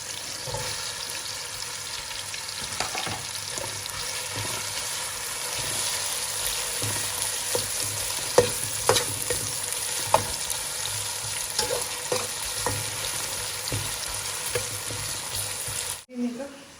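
Onions sizzle and fry steadily in a hot pan for a Malaysian lunch of fish soup with torch ginger flower, with occasional stirring clinks and scrapes; faint voices talk in the background.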